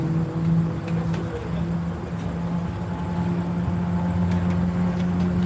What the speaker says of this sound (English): That Camaro seems quite loud on the back side of the track.